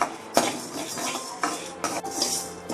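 Urad dal roasts dry in a pan while a metal spoon stirs it, giving repeated scraping and clinking against the pan with a couple of sharper knocks, close and fairly loud.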